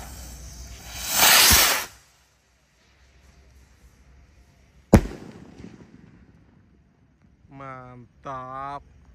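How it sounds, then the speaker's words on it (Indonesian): A box Roman candle firework with 25 shots sends up a loud hissing burst of fire, followed by a sharp crack and crackling, then a voice talks briefly at the end. "kita awali dengan Roman Candle kotak yang shotnya 25 ya"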